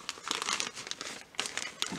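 See-through plastic bags being handled, a continuous close crinkling and rustling with quick crackly bursts and a brief lull midway.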